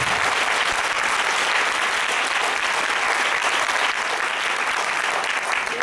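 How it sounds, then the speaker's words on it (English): An audience at a youth talk event gives a steady, full round of applause that carries on unbroken and fairly loud from start to finish. "Please give them a round of applause"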